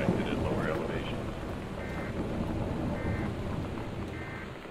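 Steady rain and rumbling thunder from a storm in the video game Gone Home fill the scene, with a broad wash of noise and faint repeated electronic tones over it.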